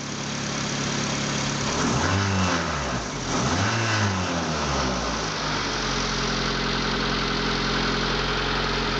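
Honda D16 engine revving up and down twice with rising and falling pitch, then settling into a steady loud idle, the motor close by with no talking.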